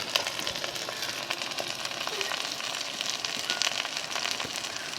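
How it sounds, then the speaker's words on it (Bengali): Spice paste of ground whole Kashmiri chillies frying slowly in a pan over low heat for a village-style chicken curry, a steady soft sizzle and crackle throughout, close and moderately quiet. "অল্প জালে ভালোভাবে আমি মশলাটা কষে নেব।"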